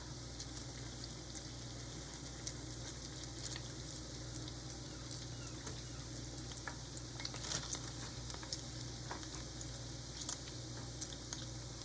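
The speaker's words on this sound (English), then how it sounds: "I'm going to finish frying my donuts" Small jam-filled donuts frying in hot oil, a soft steady sizzle with faint crackles, quiet and continuous with no talking.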